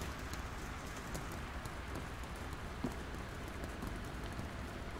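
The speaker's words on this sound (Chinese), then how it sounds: "外面好像在下雨" Rain falling outside in the video game Devotion, a faint, continuous soft hiss with scattered light patter that holds steady the whole time, with no voices over it.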